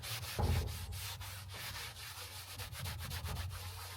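A microfiber rag rubbing paint and glue off a surface with methylated spirits, producing repeated scrubbing strokes in a steady back-and-forth rhythm, close and moderately quiet with no voices.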